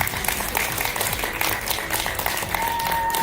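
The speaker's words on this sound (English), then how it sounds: "A round of applause for her, please." An audience at the Miss Trans Global USA grand final pageant applauds, dense sustained clapping filling the hall, loud and close throughout.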